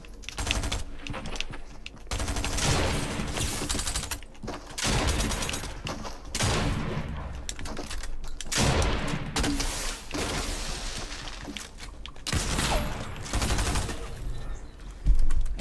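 Rapid bursts of SMG fire in Fortnite crackle loud and close, long rattling volleys broken by brief gaps, continuing for about fifteen seconds with no talk.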